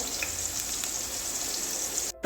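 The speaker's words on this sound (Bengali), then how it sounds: "আলুটা একটু লাল লাল করে ভেজে নেব" Potatoes fry in a pan with a steady, close, crackling sizzle for a bitter gourd and potato curry. It cuts off abruptly just before the end.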